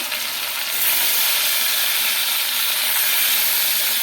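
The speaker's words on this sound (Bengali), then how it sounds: "দিয়ে মাছটা ভালো করে ভেজে নেবো" Bhola fish fries in hot oil with turmeric, giving a loud, continuous crackling sizzle that grows stronger after the first second and stays steady, with no voices over it.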